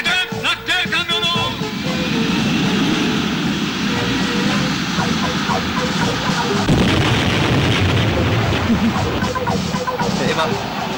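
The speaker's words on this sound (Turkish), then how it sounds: "Avcı uçakları alçak uçuş!" Fighter planes making a low pass in an old Turkish comedy film, a loud continuous jet roar with heavy booms and blasts mixed in, filling the scene without a break.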